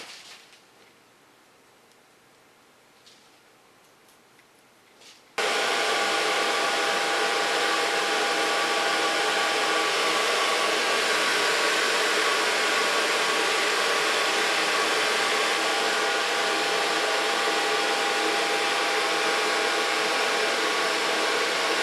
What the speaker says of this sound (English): Blow dry it with a hairy brush.